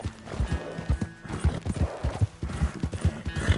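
Quick, rhythmic clip-clop of horse hooves trotting close by in Red Dead Redemption 2, steady and distinct, with no talking.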